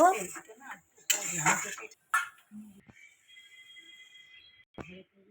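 A spoon clinks against a pot a few times while ghee and garam masala are stirred into banana flower curry, with quiet speech between the scrapes and a short tone near the end.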